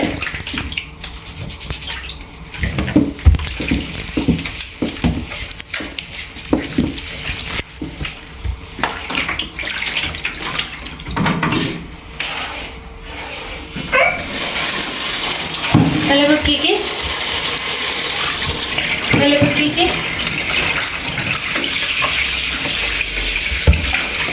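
Water is poured and splashes steadily while a baby is bathed, starting in scattered bursts and becoming a continuous close stream, with someone talking throughout.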